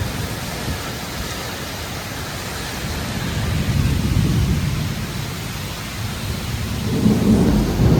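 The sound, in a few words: heavy rain, wind and thunder during nor'wester storm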